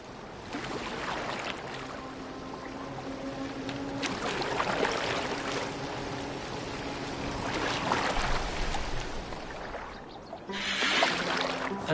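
A boat is steered across water in Assassin's Creed Valhalla, a continuous rushing wash of water against the hull with swelling surges and splashes. It stays fairly loud throughout and ends in a brighter spray.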